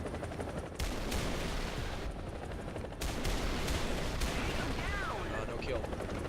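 An AH-1G helicopter fires Hydra rockets in War Thunder, with several sharp, loud blasts spaced about a second apart over a constant roaring engine drone.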